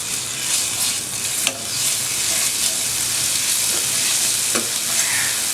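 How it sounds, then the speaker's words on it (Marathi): Ginger garlic paste frying in hot oil for kadai paneer, a loud, steady sizzle and hiss with faint stirring scrapes, no voices. "तेल तापायला लागले. आपण थोडा अद्रक लसूणचा पेस्ट घालणार आहे"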